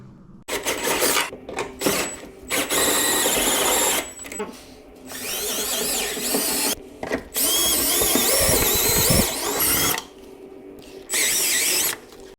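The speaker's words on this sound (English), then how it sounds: "all of our holes are all drilled out. We just used a stepping bit to get to our diameter" A power drill with a stepped bit bores holes during a Jeep JK rear fender install. It gives loud, grinding bursts of varying length, separated by short pauses, close to the mic.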